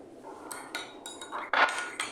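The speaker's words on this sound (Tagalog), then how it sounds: "paghaluin lang natin ang ating dressing. Mix well." A utensil clinks and scrapes against a bowl while mixing a risotto salad dressing with mustard sauce and garlic powder, with several separate close taps and a louder scrape near the end, and no talking.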